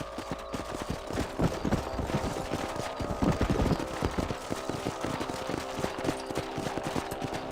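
Horse hooves clip-clop steadily on a ride through a ranch in the video game Red Dead Redemption, a dense rhythmic patter under game music and ambience, with bursts of gunfire-like cracks mixed in.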